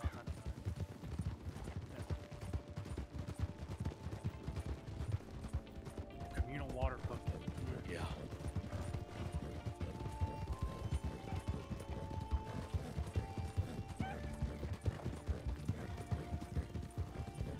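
Rhythmic hoofbeats of a galloping horse in the video game RedM drum along steadily under game sounds and a person talking.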